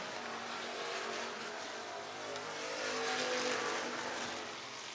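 IMCA race cars in a heat race at Kossuth County Speedway in Algona, Iowa, roaring as a pack at a distance, a broad steady engine wash that swells slightly midway.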